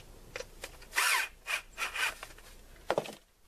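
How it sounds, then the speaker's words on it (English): A power drill tightening a clamp whirs in several short bursts, its motor rising and straining briefly with pauses between, close by and with no talking. "Just as tight as that drill will take it."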